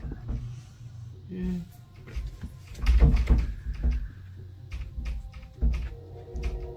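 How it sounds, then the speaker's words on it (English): A door rattles in a series of knocking, clattering bursts that come and go at close range, with some quiet gaps between them. "The door's rattling."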